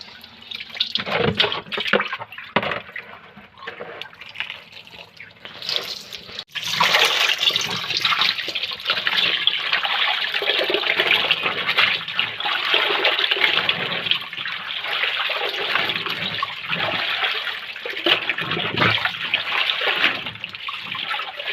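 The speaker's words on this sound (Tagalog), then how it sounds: "maaari na po nating banlawan sa malamig na tubig" Dyed jeans are rinsed in cold water in a basin. Splashing and sloshing water runs throughout, sparse at first and then fuller and steadier, with drips and trickles.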